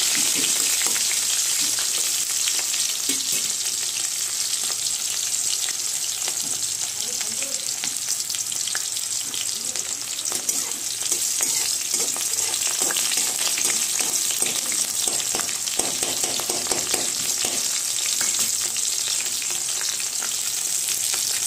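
Green chillies and nigella seeds frying lightly in oil, a steady close crackling sizzle that runs unbroken throughout with only faint stirring.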